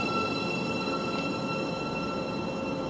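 Thameslink Class 700 train pulling into Cambridge North station, a steady rumbling roar with a sustained high electric whine and faint wheel squeal, continuous and fairly close throughout.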